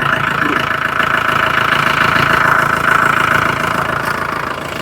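Loud, steady car engine idle rumbling close by, a continuous throbbing drone with slight mechanical knocking throughout.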